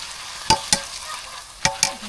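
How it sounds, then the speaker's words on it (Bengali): Rice is stirred with mixed spices in a pot for village-style biryani, giving four sharp scraping strokes over a faint steady background, close and moderately loud, with no talking. "চাউলগুলা কিন্তু বিভিন্ন মশলার সাথে নাড়াচাড়া করি।"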